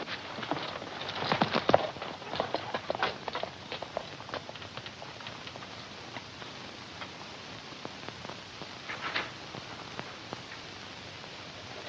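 Irregular clopping of horse hooves on hard ground, moderately near, with scattered clicks and a faint background hiss, no voices.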